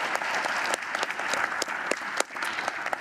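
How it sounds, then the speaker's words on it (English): Lively applause from a sizable church audience, continuous clapping with a few sharper, closer claps standing out over the roar. "give them a round of applause"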